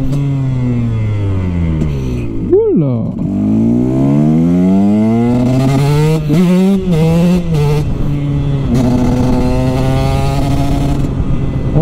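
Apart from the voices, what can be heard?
dirt bike two-stroke engine revving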